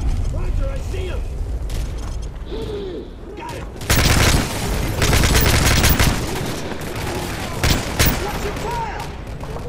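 Gunfire in Call of Duty Modern Warfare 3 during a courtyard firefight, with loud sustained bursts of shots and mechanical weapon clatter that swell midway, and voices shouting over the action.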